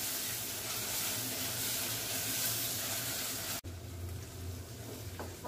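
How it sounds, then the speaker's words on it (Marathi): Onion and tomato sautéing in a pan for moong dal khichdi with a pinch of asafoetida, a steady close sizzle and fry with a brief break near the middle before the crackle resumes; no talking. "त्याचबरोबर मी घालते टोमॅटो, टोमॅटो पण चांगला नरम होईपर्यंत आपण परतवून घेऊया"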